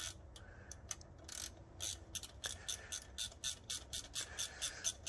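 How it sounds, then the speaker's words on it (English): A ratchet wrench loosens a 10 mm bolt on a second-generation Suzuki SV650 motorcycle during radiator removal, a quick series of close, crisp clicking strokes that grow more regular and rhythmic toward the end. "Loosen the bottom 10 millimeter."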